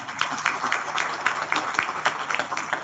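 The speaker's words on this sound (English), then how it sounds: "let us clap and welcome" An audience claps to welcome a lecturer at an academic event, a steady patter of many hands close by that carries on without a break.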